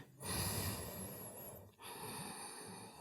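Deep, steady breathing during a morning hamstring flexibility yoga flow, soft and close with a continuous airy rush that dips briefly and then resumes, alone without talk.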